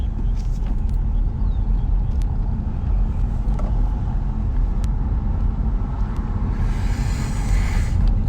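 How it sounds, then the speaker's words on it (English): A late-1960s Cadillac convertible drives past on a street, a steady broadband rumble of engine and road noise running throughout, with a brief hiss of passing air rising near the end. "Was that like a late 60s Caddy convertible?"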